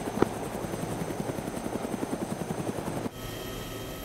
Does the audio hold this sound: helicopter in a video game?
yes